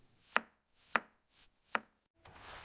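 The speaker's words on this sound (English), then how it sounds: "I cut the onions." Three crisp knife chops through onion on a cutting board, evenly spaced and close, followed by a short scraping rustle; no voices.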